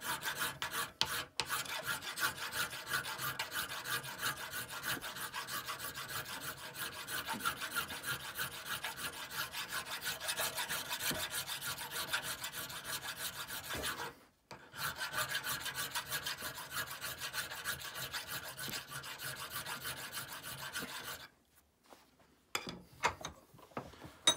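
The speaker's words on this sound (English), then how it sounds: "Commence the filing." Metal filing on a brass hammer head being built: a long run of close, rhythmic rasping strokes, briefly interrupted once, then stopping near the end with a few scattered knocks.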